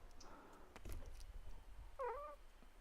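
A domestic cat gives one short complaining meow near the end, faint and fairly close against quiet room noise, after a few soft rustles.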